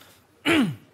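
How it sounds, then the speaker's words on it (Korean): A single short throat-clearing cough bursts out close and loud after a quiet moment, its tone falling as it fades. "누가 기침소리를 내었는가?"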